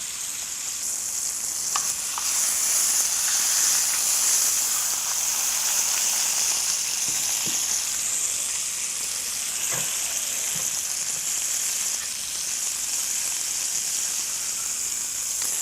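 Pork loin medallions pan frying, a steady loud sizzle and crackle with occasional small pops, close up and continuous with no talking.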